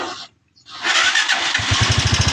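Honda TMX 125 Alpha motorcycle, which had trouble starting, firing on the push-button starter after a short starter whir, then settling into a loud, close, steady single-cylinder idle with a rapid chugging beat.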